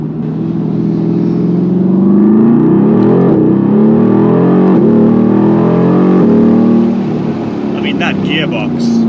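A 2021 Mercedes-AMG GT R pulls hard through its short gears, the engine loud and close inside the cabin and climbing in pitch with quick shift breaks, as a voice talks over it.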